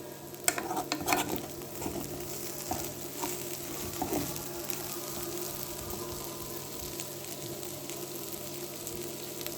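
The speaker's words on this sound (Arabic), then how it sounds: "نشوحه شويه مع البصل" Rice being sautéed with onions and cumin in a pot, a faint, soft sizzle with occasional light stirring scrapes near the start.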